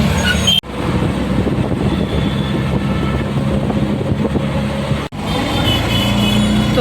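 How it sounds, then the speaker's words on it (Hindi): Dense road traffic heard from inside a moving auto rickshaw on a crowded street, with a steady loud engine and road rumble and a continuous wash of vehicles and a pedestrian rush outside, briefly cut out twice. "ये देखो, ये पैदल का रश देखो और इधर ट्रैफिक का रश देखो, गाड़ियों का रश।"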